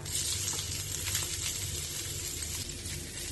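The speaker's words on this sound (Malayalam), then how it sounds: "ഇനി ഇതേ എണ്ണയിലേക്ക് ഇഞ്ചി മുറിച്ചതിട്ട് വറുത്തെടുക്കണം" Thinly sliced peeled ginger frying in oil in a pan for ginger chutney, a dense close crackling sizzle that stays steady throughout, with no voices.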